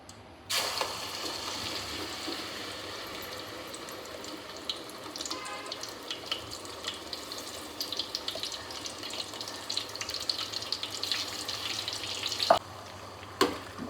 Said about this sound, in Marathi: आता हे तेल गरम तेल आहे, त्याच्यात मी ही टोमॅटो प्युरी टाकते